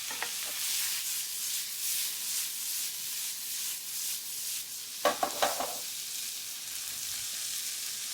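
Onion and fresh garlic sauté in a pan for a crab, spinach and artichoke dip, giving a continuous close frying sizzle, with a short burst of scraping, clattering stirs partway through.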